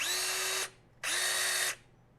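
Two short bursts of a Gesipa Accubird 14.4V cordless rivet tool's brushless motor whirring, each under a second, starting and stopping abruptly; close and loud.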